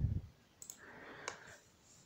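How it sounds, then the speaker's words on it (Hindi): Mouse click on a download button on a computer, a few faint, sharp clicks over quiet room noise. "डाउनलोड पे आप क्लिक कर देंगे"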